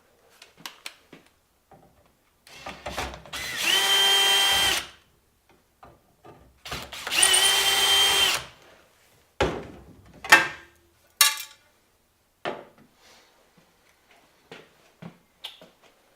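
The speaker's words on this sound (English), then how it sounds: "So the first thing we're going to do is take off your Y motor cover." A power drill whirs in two sustained bursts of about two seconds each while removing the Y motor cover on a Dixie Narco BevMax vending machine, close and loud, with clicks and clunks of handled parts between and after.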